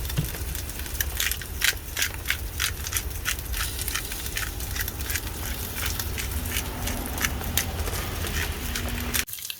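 Lamb shanks sizzling and crackling in hot oil with salt and pepper in a pressure cooker at an outdoor campsite, a dense close frying spatter with sharp pops throughout, then cutting off abruptly at the end.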